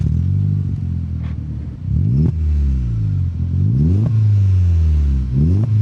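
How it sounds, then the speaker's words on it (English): A warm VW Golf Mk4 GTI engine idles close by and is revved several times, each blip rising sharply in pitch and then falling back to a steady idle. "give it a little rev for the camera"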